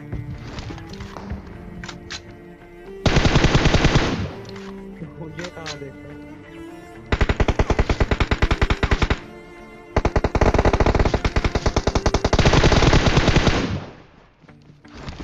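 Loud bursts of rapid automatic gunfire in PUBG Mobile come in several long volleys, with softer single shots and game sounds between them, while someone talks over the action.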